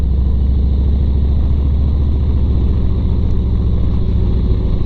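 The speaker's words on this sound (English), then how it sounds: "I'm gonna just ride for a few more minutes." A motorcycle being ridden, recorded from the rider's position: a steady, loud engine rumble with a low throbbing pulse that holds throughout, without speech.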